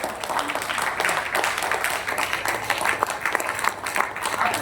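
A school audience claps steadily at the end of a talk, dense applause continuing throughout at moderate loudness with no voices over it.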